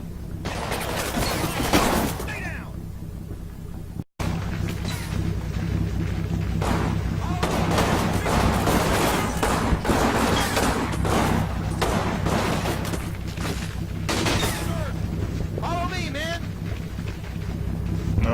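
Sporadic gunfire and thuds from the World War II tactics game Combat Mission Final Blitzkrieg, scattered shots over a steady rumbling battlefield and wind-like background, with a voice talking over parts of it.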